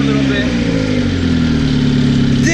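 A Honda EF hatchback's turbocharged B18B1 engine idles steadily and loudly up close, its even low rumble holding through the whole stretch.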